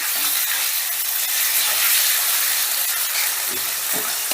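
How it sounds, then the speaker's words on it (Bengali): Chicken fries on a high flame with a loud, dense, continuous hiss like rushing steam, holding steady throughout, with a couple of faint stirring scrapes near the end. "চিকেনটা কিন্তু গ্যাসের আঁচটা হাইতে রেখেই ভাজতে হবে"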